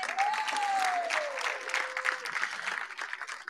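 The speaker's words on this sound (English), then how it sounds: "let's give another round of applause, please" Applause at a university nursing pinning ceremony, a crowd clapping steadily for a few seconds in a hall, with a brief whistle rising near the start.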